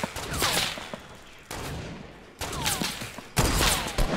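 Gunfire in the video game Fortnite, several loud, close bursts of rapid shots separated by brief gaps, with echoing tails between volleys.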